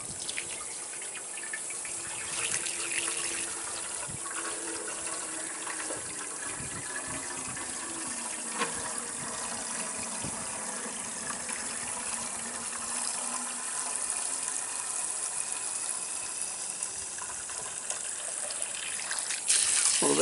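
Water gushes steadily through a Honda ATC 70 gas tank being rinsed after degreasing, a continuous close rushing and splashing flow that holds for the whole stretch with no talk.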